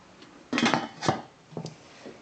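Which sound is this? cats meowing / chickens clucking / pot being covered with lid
pot being covered with lid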